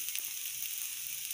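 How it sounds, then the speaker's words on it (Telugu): Mixed dal dosa batter cooking in oil on a pan over medium flame: a steady, soft, hissing sizzle with faint crackles and no talk. "మీడియం ఫ్లేమ్లో పెట్టుకొని మనము దోశ వేసుకోవాలి."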